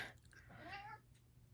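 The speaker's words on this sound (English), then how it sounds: "my cat will come and just like rub up on my legs and start meowing" A pet cat gives one short, faint meow close by in a quiet indoor room, lasting under a second.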